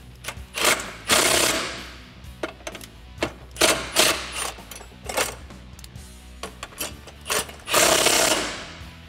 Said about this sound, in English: I'm going to tighten down the bolt that's connected to our body with a 13mm socket